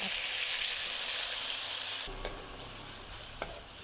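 Cumin seeds and onion fry in hot oil, giving a soft, steady sizzle that shifts to a fresh crackle midway, with a couple of faint utensil taps; fairly quiet and with no speech.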